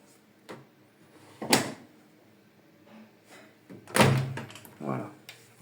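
A door being opened and handled indoors: several loud thumps and knocks spread across the clip, with quieter rattles between them.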